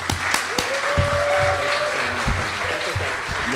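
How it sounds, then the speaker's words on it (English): An audience at a live talk-show stage event breaks into applause, a broad wash of clapping with a few sharp individual claps, while a voice speaks over part of it. "Please give a big round of applause for effing"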